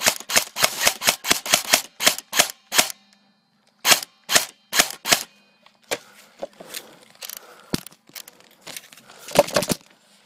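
Airsoft gun fired in a one-on-one match, a rapid string of sharp cracks, then a few spaced single shots and scattered pops with rustling and handling noise, close and loud.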